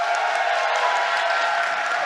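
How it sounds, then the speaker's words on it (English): An audience applauds in one dense, steady wash of clapping that holds at an even level the whole way through. "Let's give her a round of applause."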